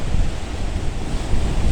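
Sea waves wash against rocks along the Lebanese coast during a fishing outing, a steady, close churning surf roar mixed with wind buffeting the microphone, with no voices.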